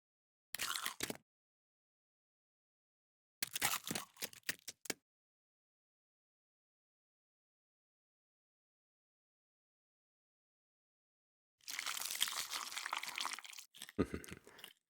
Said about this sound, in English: Put some chewing into a couple of these now.